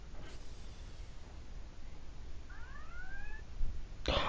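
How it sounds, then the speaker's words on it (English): Alien alarm effect from a TV series: a short run of rising, warbling electronic tones in the middle, followed by a sudden loud burst at the end, over a low steady hum with no talk. "Oh, the alien alarm's coming back."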